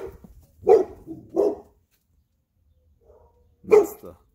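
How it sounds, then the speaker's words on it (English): A neighbor's dog barks outdoors: two close barks in quick succession, a short pause, then a third bark, loud against near silence. "That's the pleasant neighbor dog."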